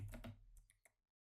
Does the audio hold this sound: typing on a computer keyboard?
yes